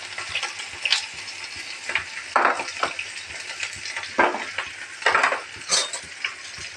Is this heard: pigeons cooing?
no